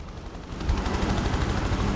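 Dense rapid gunfire from shooting practice in Prototype, a rough continuous rattle of automatic fire, loud and close, with a heavy low rumble beneath it.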